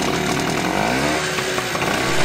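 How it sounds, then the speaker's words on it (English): A traditional gas-powered portable generator runs loudly and steadily at close range, giving a harsh, buzzing engine drone with no speech. "This is a traditional gas generator, and getting it to work can sometimes be a hassle."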